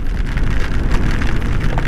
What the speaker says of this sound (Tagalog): Dito sa baba ang ulan.